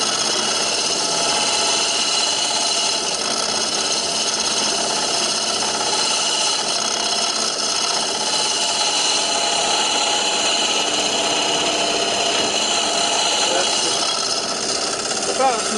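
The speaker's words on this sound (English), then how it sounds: "That's about as much hollowing out as I want to do." A continuous, loud, rattling, gritty scrape from a tool cutting inside a wooden vessel spinning on a lathe, with a voice speaking over it.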